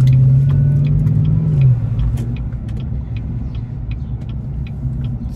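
A truck's engine rumbles steadily from inside the cab while driving, a loud low drone with a brief higher hum that drops away, joined by faint scattered ticks.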